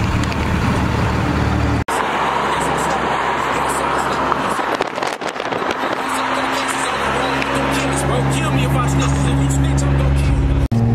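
Road traffic in New York heard from inside a car stuck in a jam: a loud, steady low rumble of engines and road noise throughout, with voices talking over it.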